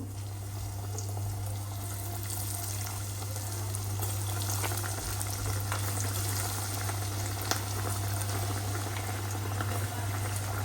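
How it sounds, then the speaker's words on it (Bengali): Hot oil bubbles and crackles steadily as samosas and lentil fritters deep-fry, a busy frying sizzle over a low constant hum, fairly quiet and uninterrupted. "এখন আমি একটু ভাজা পোড়া করে ফেলে এখানে সমোসা করব আর ডালে বড়া করব"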